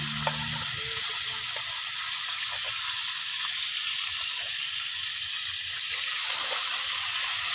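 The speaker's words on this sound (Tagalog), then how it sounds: "Para maiprito na natin ang ating manoks" Loud, steady sizzling of chicken frying in hot oil over low heat, a continuous crackling hiss that fills the whole stretch.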